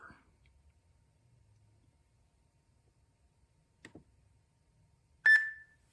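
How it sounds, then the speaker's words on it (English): A workout interval timer in a quiet room with kettlebell training: a couple of faint clicks, then one loud, sustained electronic beep near the end. "All right, there the timer's going."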